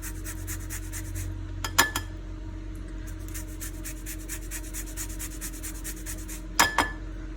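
A lemon is rubbed against a zester while making a lemon berry cake, giving soft, repeated rasping scrapes in short bursts over a low background hum, with a couple of sharper clicks of the tool against a bowl.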